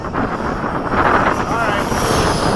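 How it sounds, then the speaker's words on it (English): A Freewing 80mm RC jet, an F-5 or F-14, comes in to land during a flying session: a loud, steady, wind-buffeted turbine roar with a faint rising whine, heard close to the microphone. "Are you landing, Mike?"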